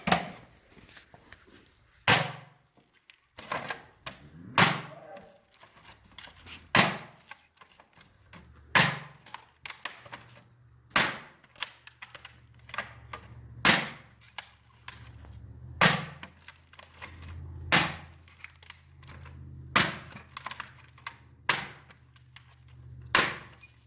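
An Apoc Wayward camp knife stabs repeatedly into a metal hubcap, giving about a dozen sharp, loud metallic impacts spaced roughly every two seconds, close up, over a low steady hum.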